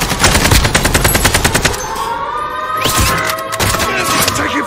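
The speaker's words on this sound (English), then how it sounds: "Taking fire." Rapid bursts of incoming gunfire in Call of Duty Warzone, loud dense automatic fire for the first two seconds, then scattered single shots and a sharp crack amid ongoing battle noise.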